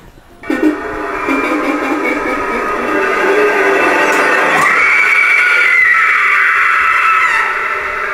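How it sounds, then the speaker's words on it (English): Motor of a Spirit Halloween Darling Dolly animatronic, a loud whirring, grinding drone that starts abruptly and rises in pitch partway through, rumbling steadily like a roller coaster. "The motor sounds a little bit kind of like a roller coaster."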